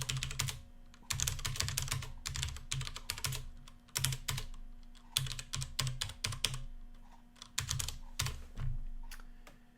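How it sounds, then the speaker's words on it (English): Fingers tap on a computer keyboard in quick clustered bursts of clicky keystrokes with short gaps between them, close up, over a steady low hum and no speech. "So I'm going to type space, 1, 2, 3."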